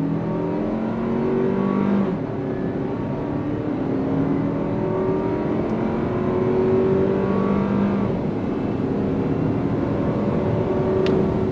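A 2023 Toyota Highlander's 2.5-liter turbocharged engine pulls hard under throttle from inside the cabin, its drone climbing steadily through several gear shifts in a smooth, continuous rise.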